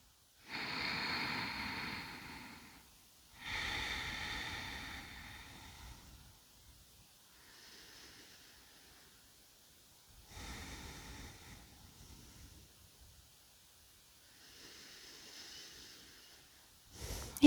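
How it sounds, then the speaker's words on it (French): Deep breathing during a yoga session, with slow, close, airy inhales and exhales in a quiet room, several long breath cycles separated by pauses. "Encore 3 respirations profondes."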